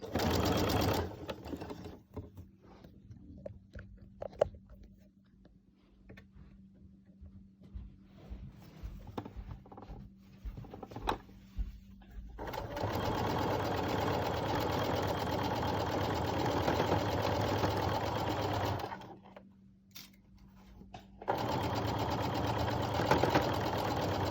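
A domestic sewing machine stitches an Olson fabric face mask in short runs: a quieter stretch of stitching, then a loud steady whir from about 12 seconds, broken by a brief stop near 20 seconds before the motor resumes.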